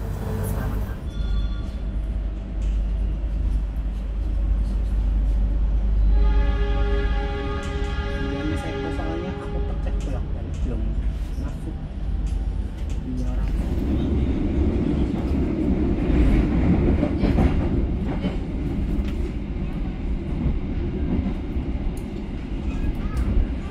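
Continuous loud rumble of the Sancaka Utara train rolling along rails after leaving Solo Balapan station, Indonesia, with a rising whine partway through, a rougher clatter later, and faint voices.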